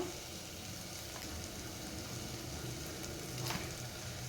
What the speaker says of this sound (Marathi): मसाले घालून झाले की त्यानंतर ते छान परतून घ्यायचं आहे